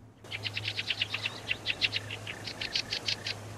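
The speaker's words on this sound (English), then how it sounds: "all you hear is birds chirping away" Birds chirp and tweet in a steady run of bright calls over a low hum, the soundscape of the main menu of the video game That Dragon, Cancer, with frogs and water also present in the scene.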